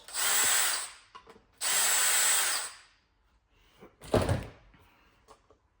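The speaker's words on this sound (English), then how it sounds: "That torque setting on the drills are very nice because that will absolutely prevent me from over-tightening and stripping screws." A cordless drill with a torque setting whirs in two sustained bursts, driving screws during a ceiling fan installation, followed by a sharp thunk and a few faint clicks nearby with no talking.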